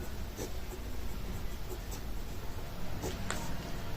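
Handwriting during a maths lesson on the Indian number system: a pen scratching out the number 5 crore in close, steady strokes, with a few sharper ticks standing out over a constant low hiss and no talking.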